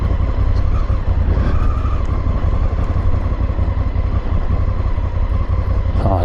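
A motorcycle on the road among the lakes and castles of the Mecklenburg Lake District gives a loud, steady engine drone with rushing wind noise and a faint rattle, no talk.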